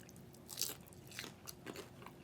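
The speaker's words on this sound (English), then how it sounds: "So they have a nice crunch on the outside, but they have that wasabi aioli on there." Crunchy fried dumplings topped with wasabi aioli are bitten and chewed up close, with a sharp crunch followed by several softer chewing crackles, quiet and with no talking.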